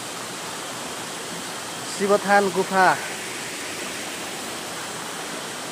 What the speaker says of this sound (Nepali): पिङ्गुवा खोलामा रहेको झरना है